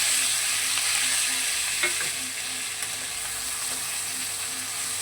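Sliced onion, potato and green chilli fry in a generous amount of oil in a wok, giving a steady, dense sizzle that continues evenly throughout with only slight dips in loudness.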